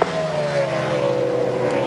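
NASCAR stock cars run side by side at speed, a loud sustained engine whine with a slowly falling pitch as they pass, and no voices.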